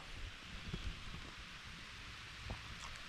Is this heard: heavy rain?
yes